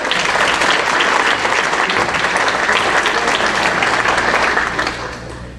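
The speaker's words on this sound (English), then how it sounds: "Give them a round of applause" A room full of Rotary Club members bursts into loud, dense, sustained applause for participants in a caregiving demonstration, holding steady before fading near the end.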